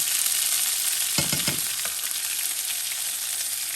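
Curry paste spits and sizzles in very hot oil in a pan for a quick chicken curry, a steady loud crackle with a short burst of sharper stirring scrapes partway through, no voices.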